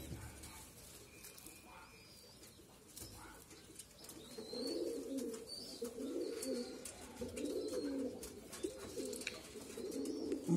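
Pigeons coo softly and repeatedly in a low, rolling rhythm, growing steadier in the second half, with faint rustling and light chirps in a quiet indoor setting.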